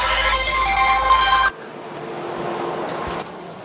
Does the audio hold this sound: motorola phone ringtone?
yes